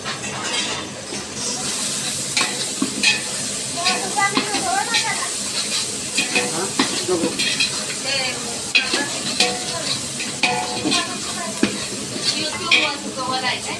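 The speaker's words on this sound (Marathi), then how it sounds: "व्यवस्थित भाजून घ्यायचं आहे." Red chili powder masala roasts in a large pan for a big batch of paneer matar, giving a continuous frying sizzle with repeated scraping and stirring strokes, while people talk intermittently in the background.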